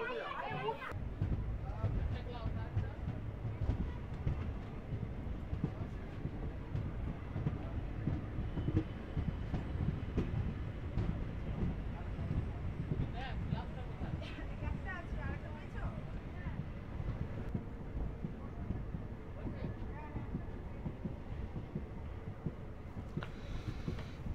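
The Asansol Digha Express rolls along with a continuous rumbling clatter of wheels on rails, heard from inside the carriage with faint background chatter.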